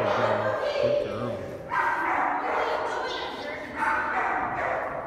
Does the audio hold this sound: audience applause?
no